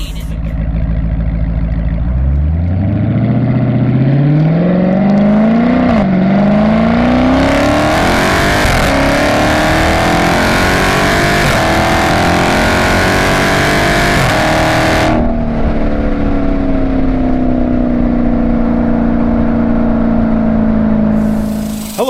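A car engine revs hard through a celebratory burnout, pitch climbing steadily and holding at a loud, sustained wail, with a sharp drop and shift partway through before settling into a steady high drone; continuous and close.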